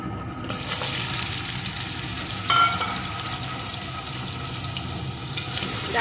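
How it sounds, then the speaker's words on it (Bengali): Crab claws frying in hot oil for a Bengali mustard crab dish give a steady, close crackling sizzle with a few sharper pops and utensil clinks, with no voices over it. "এখন এই তেলের ভিতরে প্রথমে আমি কাঁকড়ার দাঁড়াগুলোকে দিয়ে দেবো"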